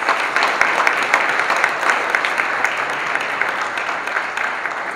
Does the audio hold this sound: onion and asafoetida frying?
no